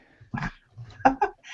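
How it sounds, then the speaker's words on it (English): A dog gives a few short, sharp barks in quick succession, close and moderately loud, separated by brief quiet gaps. "That's a dog, surely."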